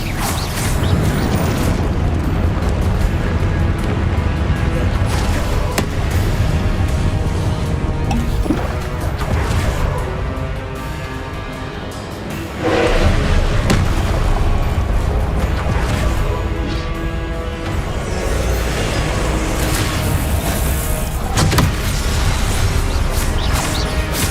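Repeated Confringo fire-spell blasts in Hogwarts Legacy burst as heavy booms and crashes over a dense, continuous wash of game combat noise, loud throughout.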